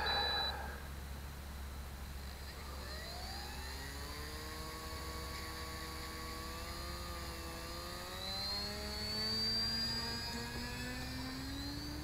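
A radio-controlled Sukhoi model plane whines overhead, its motor pitch rising and falling in layered tones as it flies, faint and somewhat distant over a low steady hum.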